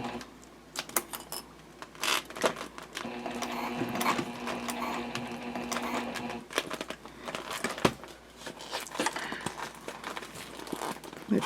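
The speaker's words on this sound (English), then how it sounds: "I'll start sewing around that curve" A sewing machine runs in steady bursts, stitching a jelly vinyl pouch around a curve, with a sustained mechanical hum broken by short pauses and light handling clicks nearby.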